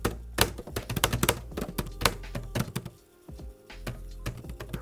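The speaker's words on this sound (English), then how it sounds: "The keyboard honestly feels and sounds terrible. It's just cheap plastic." Rapid clicking keystrokes on the cheap plastic keyboard of a budget AliExpress gaming laptop, with dense irregular taps close up and a short pause near the end.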